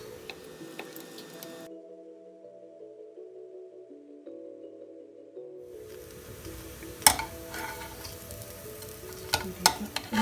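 Oiled bread slices for Shahi Tukray browning in hot oil, a soft continuous sizzle with a steady hum, then a few sharp clicks and taps near the end.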